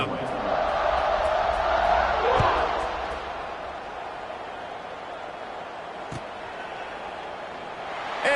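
A college football stadium crowd roars and cheers around a kickoff, loudest at first, then settling to a broad murmur, with a commentator talking over it.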